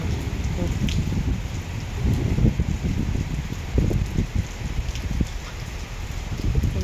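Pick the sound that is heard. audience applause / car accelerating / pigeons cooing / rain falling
rain falling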